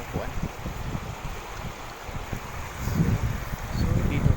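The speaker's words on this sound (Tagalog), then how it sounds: "Parang ang sarap dito magtambay kasi mahangin." Wind blows steadily by a river, a soft rushing roar with gusts that swell louder toward the end, buffeting the microphone.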